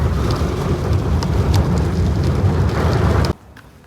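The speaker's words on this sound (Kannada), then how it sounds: "ಸೌಂಡ್ ಕೇಳಿಸ್ಕೊಳ್ಳಿ ಹಂಗೆ ಮಳೆದು." Heavy rain pours down during a road trip to Mantralaya, a loud, dense steady roar that drops away abruptly just before the end.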